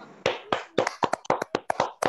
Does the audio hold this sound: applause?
yes